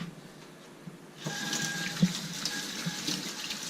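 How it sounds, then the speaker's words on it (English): Tap water starts running into a sink as hands are washed, a steady close splashing stream that begins after a short quiet moment and continues evenly with small splashes. "I'm going to wash off my hand really fast."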